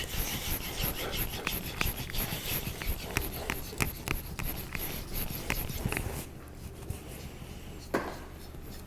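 A kitchen knife is drawn in edge-leading strokes across a whetstone, producing steady rhythmic scraping and rasping up close, then trailing off into quieter strokes.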